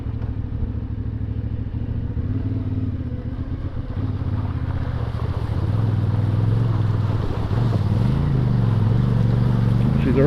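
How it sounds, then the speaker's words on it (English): A CFMoto 450MT motorcycle rides through a shallow rocky-bottomed creek in the outback, its engine droning steadily and loudly, rising in pitch as it pushes through, with splashing and clatter mixed in. "we got a little creek crossing"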